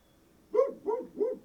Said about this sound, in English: I'll let Rocky bark.